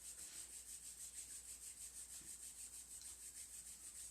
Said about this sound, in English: rub the hands, create some heat and some friction with the hands.